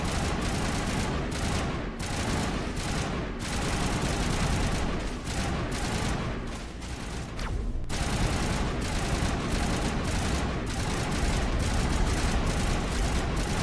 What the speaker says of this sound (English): this machine gun is nothing compared to my pistol